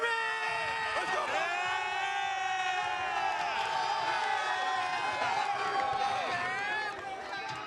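Basketball crowd in a packed Newark arena cheers and chants in a sustained, loud roar that holds steady and fades slightly at the end.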